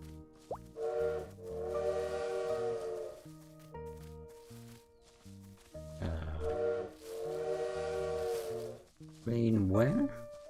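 In the video game Little Witch in the Woods, a bird imitates a steam train whistle: long tonal whistle blasts, repeated several times, over game music with a chirpy rising call near the end.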